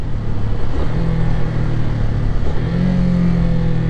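Chinese motorcycle engine braking on the road, a loud close mid-pitched engine drone that shifts pitch as revs change, with wind noise and no talk.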